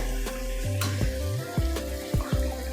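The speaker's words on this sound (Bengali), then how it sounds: "মোটামুটি কষা আমার হয়ে গেছে" Chicken pieces for a stew sizzle and fry in a hot pan, with loud scraping stirs and clanks of a utensil against the pan at irregular intervals, close and without talk.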